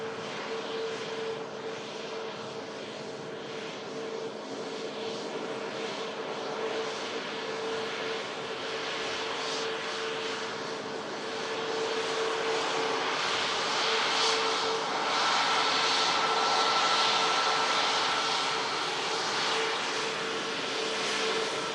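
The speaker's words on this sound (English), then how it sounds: "Ryanair Max coming on in as well. Just vacating using the rapid exit taxiway." A Ryanair Boeing 737 MAX jet arriving at Manchester Airport and vacating runway 23 right via the rapid exit taxiway: a steady, distant engine roar with a faint whine, swelling slightly louder midway through.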